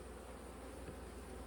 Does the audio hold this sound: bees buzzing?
yes